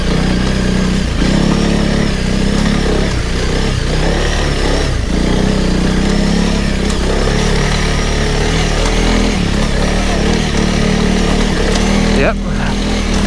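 A Honda CRF300 Rally motorcycle with trials tyres runs in gear on a rough lane, its engine droning steadily and close with small throttle changes, under a rider's intermittent speech.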